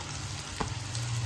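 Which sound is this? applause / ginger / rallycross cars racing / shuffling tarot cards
ginger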